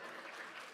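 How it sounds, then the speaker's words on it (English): A crowd applauds at a startup showcase, a brief dense wash of clapping that is steady and fairly distant. "A round of applause for Chris."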